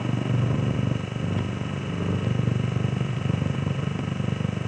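A Corvette Stingray and a 1973 Holden Torana GTR racing side by side, their engines blending into a steady, loud mid-pitched drone with rhythmic pulsing throughout.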